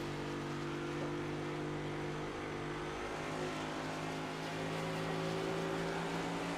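Race car engines in the iRacing sim on the Phoenix track drone steadily at low level, a continuous layered hum with no talk over it.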